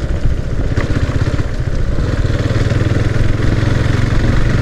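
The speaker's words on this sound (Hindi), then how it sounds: "मेरा बाइक लेते हुए आ रहा है सामने से" A KTM Duke 390 motorcycle engine runs loud and steady nearby, its low throbbing rumble constant and gradually thickening as it approaches.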